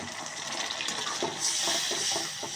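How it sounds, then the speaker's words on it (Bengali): Water poured into a pan of ginger, garlic and cumin paste with turmeric, chili powder and salt for a fish curry: a steady, close splashing rush that runs the whole time, brightening midway. "একটু পানি অ্যাড করে দেবো"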